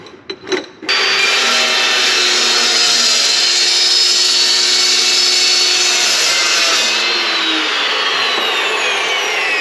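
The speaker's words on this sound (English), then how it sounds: "these cold cut saws make super quick work out of cutting steel" A cold cut saw slices through steel stock for a small gooseneck trailer build, giving a loud, steady high-pitched grinding whine that holds for several seconds after a brief start-up, then eases slightly near the end.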